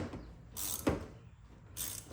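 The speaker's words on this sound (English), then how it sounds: "It's like the best way to get this spark plug out because you cannot get this ratchet in there any other way." A ratchet turning a 5/8 socket on a swivel to loosen the spark plug of a Honda Foreman 500 ATV, with a few short ratcheting clicks and metallic creaks in quick bursts, close by.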